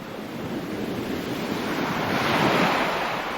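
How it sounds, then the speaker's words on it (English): Waves crash on a beach in a continuous, ever-shifting roar of surf that swells louder toward the end, with some wind noise and no voices. "But waves crashing on a beach is quite something different."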